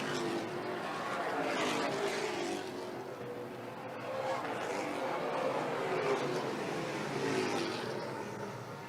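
NASCAR Pinty's Series stock cars race around the Autodrome Saint-Eustache oval, their engines a continuous loud roar swelling and fading as the pack circulates, with a commentator talking over the noise.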